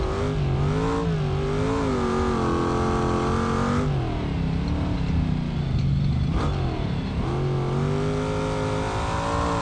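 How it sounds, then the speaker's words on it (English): A virtual truck's engine in BeamNG.Drive roars close and loud on a Johnson Valley time trial, holding a steady drone, dipping sharply twice as the revs fall away and then climbing again. "I just hope you can hear me over the truck."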